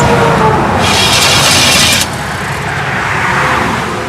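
Car engine cranking over without catching, the starter spinning a motor that has lost its timing chain, heard as a loud steady mechanical whir with a rasping hiss in the first two seconds, then a lower continuing drone.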